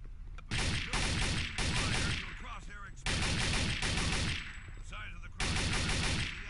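Bursts of automatic rifle fire in Counter-Strike: Condition Zero, several loud sustained volleys separated by short pauses, with shell and reload clatter between them.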